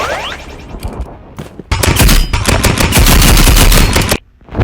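Sustained automatic gunfire rips at a video game shooting range, loud and continuous for a few seconds after a few scattered shots, with no talking.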